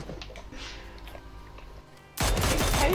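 Gunfire in PUBG: a rapid volley of shots cracks out loud and close, starting abruptly after a quieter stretch of scattered faint pops and continuing to the end.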